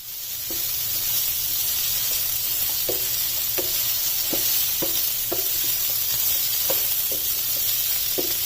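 Capsicum, garlic, ginger and cumin sizzle steadily in a hot pan while a utensil taps and scrapes in a loose, repeating rhythm.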